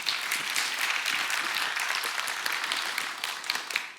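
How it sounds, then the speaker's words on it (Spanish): A church congregation at a Spanish-language service gives steady, full applause, a broad wash of many hands clapping together for about four seconds with no voices over it. "Démosle un aplauso al Señor por eso."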